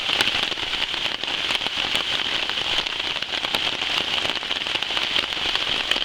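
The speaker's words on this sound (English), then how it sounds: "it's raining cats and dogs." Heavy rain pours down steadily outdoors during an overnighter, a dense, continuous hiss of drops striking surfaces with scattered sharper patters, loud and close with no voices.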